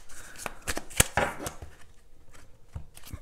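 Tarot cards shuffled by hand in a short burst of crisp riffling and slapping flicks, close and fairly quiet, with soft uneven snaps and no talk.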